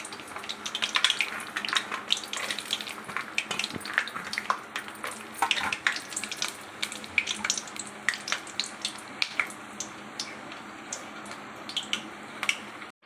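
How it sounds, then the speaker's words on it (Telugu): Peanuts fry in a pan with a dense, close sizzle full of rapid crackles and pops, holding steady throughout before cutting off at the end. "ఇలా పెట్టేసుకొని దీంట్లోనే మనం పల్లి ఫ్రై చేసుకోవాలి"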